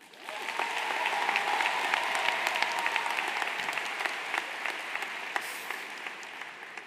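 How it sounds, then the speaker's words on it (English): Applause for graduates at a high school graduation swells quickly from a crowd and holds steady, then thins gradually into scattered individual claps toward the end. "can we have a round of applause for our graduates?"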